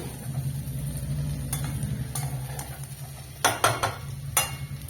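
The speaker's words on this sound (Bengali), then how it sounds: "এবার আমি এতে গরম জল দিয়ে দিচ্ছি।" Hot water goes into a pan of sizzling soybean, potato and cauliflower curry, producing a steady bubbling hiss, followed by several sharp utensil scrapes and clanks against the pan.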